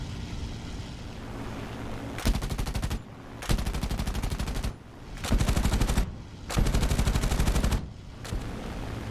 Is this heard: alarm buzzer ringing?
no